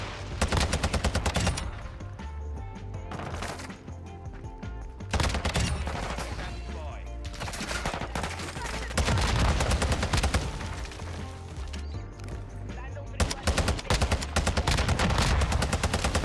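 TAQ-V rifle firing in Call of Duty: Modern Warfare II, rapid automatic bursts of close, loud gunfire repeating across the stretch with short gaps between volleys.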